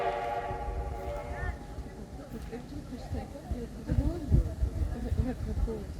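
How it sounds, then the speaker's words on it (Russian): A steam locomotive passes. A tonal whistle sounds at first, then gives way to a heavy rolling rumble and clatter that grows louder toward the end, with people talking over it. "Паровоз."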